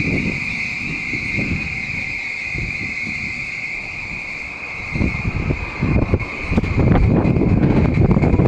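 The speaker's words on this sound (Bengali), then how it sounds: "দেখেন সৌদি আরবের খুবই ঠান্ডা বাতাস" Cold wind gusting across the microphone on a road in Saudi Arabia in a low, rumbling buffet that grows stronger toward the end, over a thin, steady background whine.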